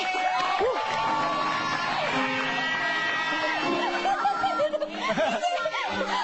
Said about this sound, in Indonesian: Tepuk tangan dulu dong buat TJ